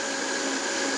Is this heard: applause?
no